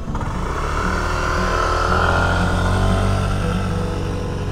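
A motorcycle held on steady throttle, engine loud and close, revving and rising in pitch without a break, no voices over it.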